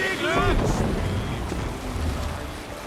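A Viking longship sets sail in Assassin's Creed Valhalla: steady wind and rushing water fill the scene, with a short shouted voice at the start.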